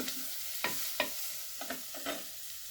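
Ginger garlic paste frying in oil for a Kerala-style chicken curry, a soft sizzle broken by several distinct stirring scrapes at uneven intervals, close and fairly quiet.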